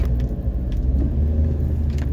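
Steady low rumble of cars and other vehicles at the intersection of Lourdes and Naguilian Road on a rainy day, a continuous dense traffic drone with no talk.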